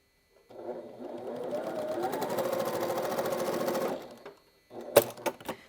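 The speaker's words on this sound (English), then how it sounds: "we're going to sew across there to make the 4 patch" Sewing machine stitching two quilt pieces together across a nested seam to form a four-patch block, one steady close run of about three and a half seconds, then a few sharp clicks and taps.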